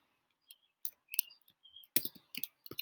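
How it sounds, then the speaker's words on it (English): Keyboard typing while laying out text in Photoshop: quiet, sparse clicks in short, irregular bursts. The keystrokes thicken toward the end into a faster run. "I just start typing"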